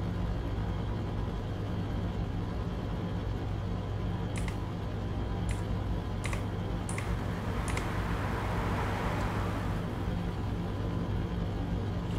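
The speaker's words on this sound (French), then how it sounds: "Il y a juste le son moteur qui est modifié." A steady, droning engine hum of a modified truck engine in a driving video game runs throughout with constant low rumble, joined by a few sharp clicks partway through and a brief hiss near the end.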